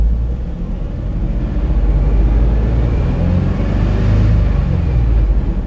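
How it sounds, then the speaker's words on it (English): A car engine running under held throttle, a loud low rumble that builds and stays high without a clear rev peak. "go ahead and hold the throttle down"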